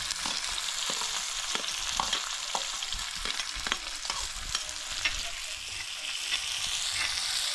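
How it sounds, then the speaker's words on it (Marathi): Onion and green chilli fry in hot oil for a Konkan-style tempering, a dense steady sizzle with intermittent stirring scrapes and crackles, close and even in level, no voices. "तेलामध्ये अशी काही फोडणी पडली ना भारीच लागते"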